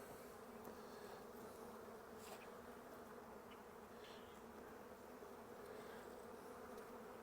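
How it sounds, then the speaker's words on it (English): Honeybees hum continuously and faintly during an open hive inspection, a dense, even buzzing of many insects with occasional individual bees passing closer. "Bees all look good and healthy."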